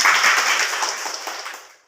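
A classroom of students breaks into brisk, dense clapping that fills the room loudly without voices, then quickly tapers off and stops.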